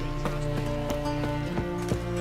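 A horse's hooves clip-clop at a steady walking pace in The Witcher 3, evenly spaced sharp knocks sitting over a constant layer of ambient game music and tones.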